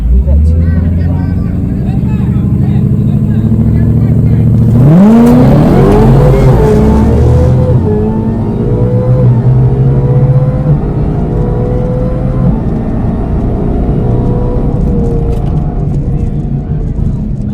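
A built Dodge Hellcat launches and accelerates hard. The engine rises to a loud roar with sweeping gear climbs, then holds a heavy, sustained drone with a faint whine, heard from inside the car.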